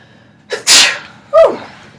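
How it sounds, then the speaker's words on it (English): One person sneezes once, loud and close, a sharp burst after a brief intake of breath, followed a moment later by a short vocal exhale in a quiet room. "So I'm going to sneeze."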